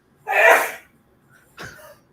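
A single loud, close sneeze with a sharp burst of breath, followed after a short pause by a fainter second sneeze-like exhale during a quiz game.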